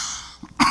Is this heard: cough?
yes